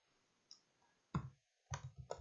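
A few separate key clicks from a computer keyboard during spreadsheet text entry, sparse and close, including one short cluster of taps, with quiet gaps between them.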